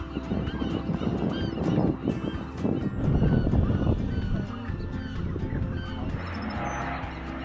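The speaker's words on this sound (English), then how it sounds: "The most common bird you'll see here is the western gull, but you'll also see some cormorants that are nesting here as well." Western gulls and cormorants at a nesting colony on Alcatraz Island, a dense chorus of overlapping honking, squawking calls that carries on steadily throughout, loud and close.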